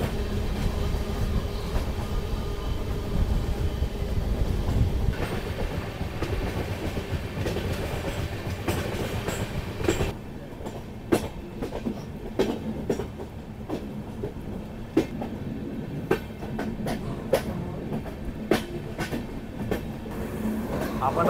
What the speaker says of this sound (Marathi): आपली ट्रेन आता पास होते इथून